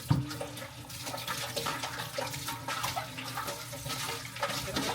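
Tap water runs continuously as a non-stick pan is rinsed, a steady close splashing stream with slight shifts as the pan moves under the flow.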